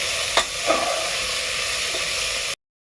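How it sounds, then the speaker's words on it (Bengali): Potatoes and tomatoes sizzle steadily as they are stir-fried in a pan for a quick potato curry, with a couple of sharp scraping stirs near the start; close and fairly loud, no talk, ending abruptly. "এবার ভালো করে একটু নেড়ে ফেড়ে নিয়ে একটু ভাজা ভাজা করে নেওয়া হবে এটা"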